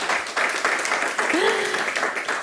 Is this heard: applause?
yes